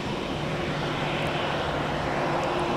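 A Sun Country airliner at Minneapolis–St. Paul airport, heard as a loud, steady broadband engine roar that holds evenly throughout the short stretch, with no voices over it.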